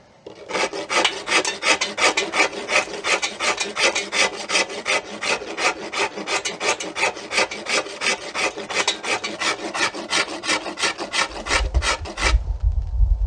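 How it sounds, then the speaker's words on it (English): A wood rasp files a wooden self bow handle to clean off draw knife marks, in a fast, even rhythm of many rasping strokes up close that stop abruptly near the end, leaving a low thump. "cleaned up a little bit with the rasp so that there's not a lot of big heavy tool marks on here from the draw knife"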